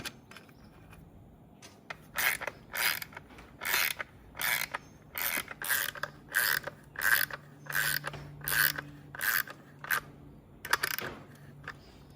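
Ratchet wrench tightening a nut to bolt on an LED taillight, with about a dozen bursts of quick clicking in a steady rhythm and short pauses between them, close and alone.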